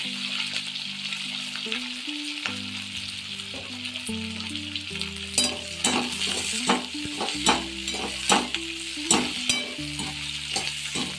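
Garlic, ginger and onion fry in a pan for cauliflower manchurian with a steady sizzle, while a spoon repeatedly scrapes and stirs, giving sharp, rhythmic clinks near the mic. Tonal hum runs underneath.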